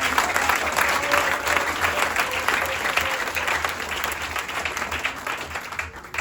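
Loud, sustained congregational applause in a church service in Muntinlupa, a dense even clapping that fills the space and tapers slightly near the end.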